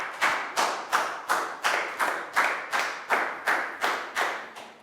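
A Year 3 class claps together in a classroom, a big round of applause heard as about a dozen crisp, evenly spaced unison claps, moderately loud and alone.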